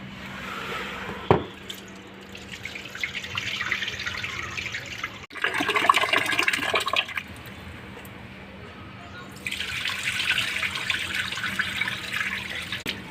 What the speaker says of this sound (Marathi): आता आणखीन एक पाण्याने धुवून घेऊया.